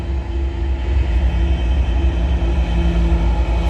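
A CN freight train with locomotives rumbles past trackside at night, a loud, steady low drone with humming engine tones and wheel noise throughout, no voices.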